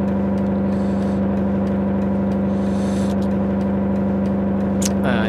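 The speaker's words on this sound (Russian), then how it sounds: "Ну, очень громкий двигатель, ну согласитесь." A loud 2018 Rolls-Royce Phantom VIII engine in the game City Car Driving drones at a steady pitch, with a constant low hum and no change in speed.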